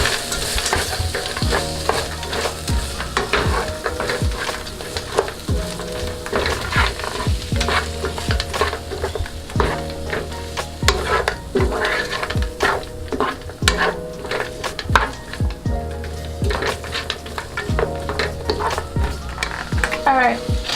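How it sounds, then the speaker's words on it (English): Frozen mixed vegetables of string beans, carrots, corn and peas being stirred into a coconut potato curry in a pot, a steady sizzle under continuous scraping and squishing stirs, close and loud throughout. "Just gonna add that in there. And then stir it up."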